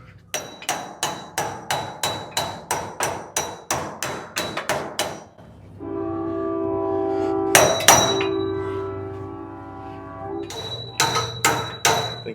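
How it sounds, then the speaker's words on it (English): A big hammer strikes sheet metal on the trunk floor of a 1937 Lincoln Zephyr in a steady run of loud, ringing blows. A pause filled with a sustained tonal hum follows, then the hammering starts again. "Get a big old hammer."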